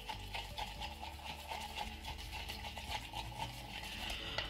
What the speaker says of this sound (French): Allez, je viens mélanger déjà tout ça.